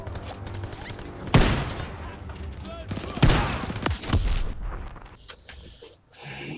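Gunfire in the World War II shooter game Call of Duty WWII: loud sharp bursts of shots and explosive cracks in rapid sequence, with heavy blasts near 1.3 and 3.3 seconds over a rumbling battle din.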